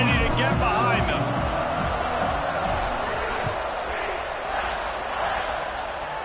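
Crowd noise filling a college football stadium at a kickoff, a dense roar that is loudest at the start and then settles into a steady, distant hum, with announcer talk over it.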